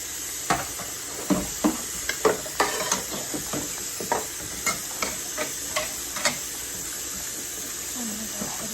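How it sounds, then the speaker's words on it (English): Gloved hands rinse dishes under running water, producing a steady background hiss of water with a string of small clinks, taps and splashes at irregular intervals, close and clear. "I'm just rinsing it and setting them to the side for now."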